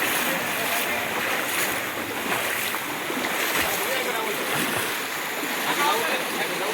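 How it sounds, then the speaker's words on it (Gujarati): Floodwater after torrential rain in Mahuva rushes in a continuous broadband wash, steady and moderately loud, mixed with wind buffeting on the microphone and no clear speech over it. "કેટલું પાણી જાય છે તો ચાલુ છે પાણી અત્યારે"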